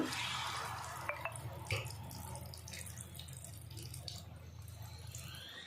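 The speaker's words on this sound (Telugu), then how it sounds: "ఇప్పుడు నేను దీంట్లో కొంచెం చింతపండు పులుపు వేసుకుంటున్నాను." Tamarind water poured into a simmering kavvala fish curry gives a steady, close splashing trickle with a few small drips, heard alone with no talking.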